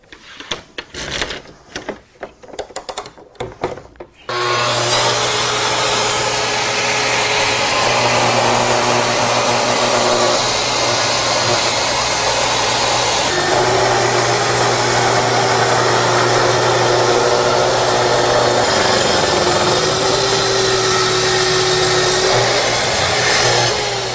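Festool plunge saw cutting along a GuideRail, starting after a few seconds of clattering handling and then running as a loud, steady whine with a constant motor drone for about twenty seconds.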